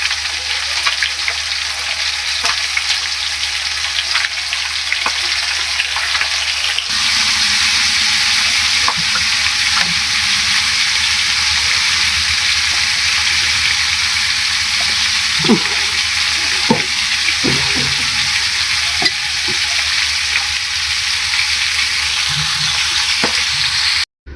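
Onions fry in a very hot pan with a few catching on the bottom, giving a loud, steady close sizzle for the whole stretch, with the hiss thickening partway through and occasional soft scrapes of stirring.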